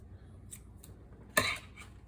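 Scissors snip through elastic in a single sharp, close cut, preceded by a couple of faint small handling clicks in a quiet room.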